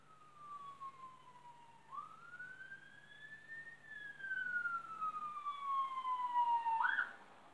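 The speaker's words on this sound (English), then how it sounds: "Here comes another ambulance." A wailing ambulance siren sweeps slowly up and down in pitch, growing gradually louder as it approaches, with no talking.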